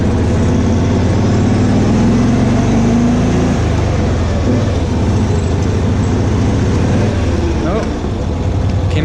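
Loud, steady engine drone of a Cushman Truckster utility vehicle running in gear after a shift, with low rumbling and some rattle throughout, a voice speaking beneath the noise.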